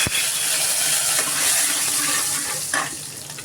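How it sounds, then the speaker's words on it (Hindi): Cumin, asafoetida, curry leaves and whole red chillies fry in hot oil with a steady, close sizzle that holds throughout, with a sharp crackle near the start and a brief burst later on. "थोड़ा सा जीरा डालेंगे, हींग डालेंगे और साथ में हम इसमें डालेंगे करी पत्ता और जो हमने साबुत लाल मिर्च ली है"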